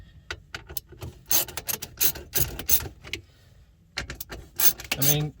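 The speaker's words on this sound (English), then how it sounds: "with our little socket, remove these guys real quick" Small 7mm socket wrench backing out four little screws holding the factory radio in a 2008 Ford Taurus X dash, giving quick clicky ratcheting bursts with short pauses between them, close and fairly loud, with no talk.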